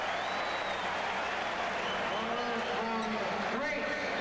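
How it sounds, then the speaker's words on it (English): Crowd at a 1984 Cavaliers–76ers NBA basketball game roars with broad, sustained cheering and applause after a Charles Barkley dunk, a dense arena wash with a commentator talking over it. "and the crowd turned on by that one."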